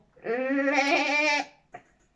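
A child imitates a sheep with one long, wavering bleat, then gives a short second bleat after a brief pause, close and clear.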